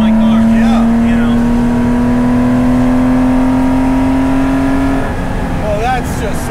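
Engine of a 1973 Porsche 914/6 flat-six running steadily with a strong sustained tone, rising in pitch slightly before settling after about five seconds, loud and close throughout.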